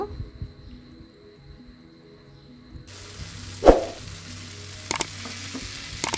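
Beef pieces dropped into a hot pan of browned spices for a dark Bangladeshi bhuna, breaking into a steady, close sizzle with a sharp burst as the meat lands, then continuous frying hiss and faint stirring.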